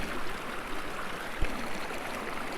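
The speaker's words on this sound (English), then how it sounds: "And then the main river, or not, it's a creek, is right there" A small creek, a little fork off a larger stream, flows steadily outdoors. It makes an even, moderately loud watery hiss with one brief faint knock partway through.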